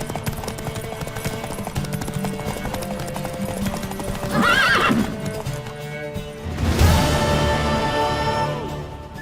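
Hooves clatter in a steady gallop while a horse gives two loud whinnies, over a busy background in the video game Witcher 3 Wild Hunt.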